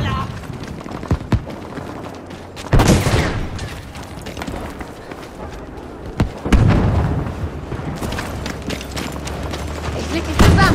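Battlefield 5 conquest match: dense, near gunfire bursts and heavy booming explosions, repeated throughout with rumbling aftermath, while someone talks over the combat.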